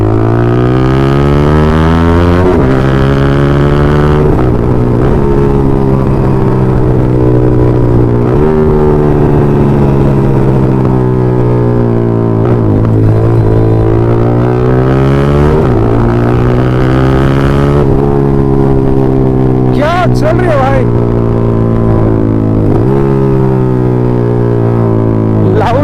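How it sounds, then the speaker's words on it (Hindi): A Yamaha MT 15 motorcycle with a loud, over-loud exhaust drones steadily while riding, its engine note rising and falling through repeated revs and gear changes, close and dominant throughout. "ये बाइक घुरा रही है भाई।"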